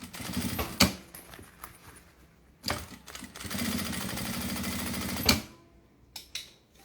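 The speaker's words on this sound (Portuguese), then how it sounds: "Vou encaixar o meu vivo. Vou dar um espaço e costurar." A sewing machine stitches piping onto a fabric pencil case in short bursts, with a longer steady run in the middle, close and fairly loud, separated by quiet pauses and small handling clicks.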